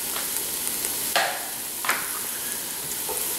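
Drained canned Rotel tomatoes sizzle and crackle steadily in a hot pan, with two brief louder stirring scrapes partway through.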